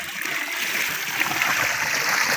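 Water splashes and trickles steadily as it is poured out of a heavy container outdoors, a continuous near splattering flow with no talk over it.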